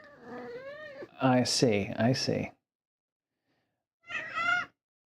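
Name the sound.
cat meowing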